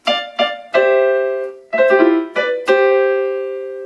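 Piano arpeggios, played alone as a handful of struck notes and paired intervals, each ringing and fading before the next, the last chord left to decay slowly.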